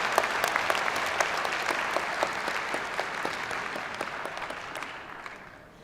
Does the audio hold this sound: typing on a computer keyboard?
no